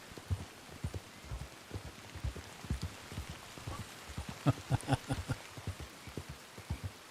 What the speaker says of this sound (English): Oh, we've got rain again now, chat.